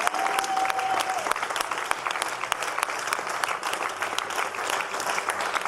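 A church congregation claps steadily and densely for several seconds, a full, continuous round of applause from a crowd indoors, with no talk over it.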